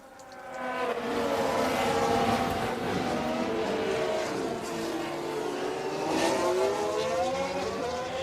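A Ferrari Formula 1 car racing in the F1 Manager 22 game at the United States Grand Prix, giving a loud high-pitched engine whine that rises and falls steadily as it passes, with no talking.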